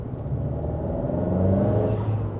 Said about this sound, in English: Yep, then you can hear the turbo.